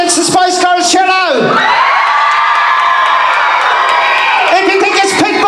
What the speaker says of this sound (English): If you think it's the Spice Girls, cheer now.